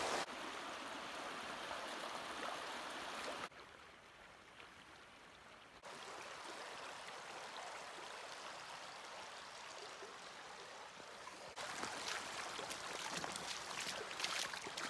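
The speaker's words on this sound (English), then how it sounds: "we found the river" The Paria River flowing through Paria Canyon, a steady rushing stream heard close by, with the wash dropping quieter for a few seconds before swelling back, no voices.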